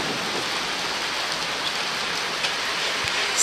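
Rain patters continuously through a stand of trees ahead of an oncoming storm, a soft, uniform wash of drops with a few sharper hits near the end.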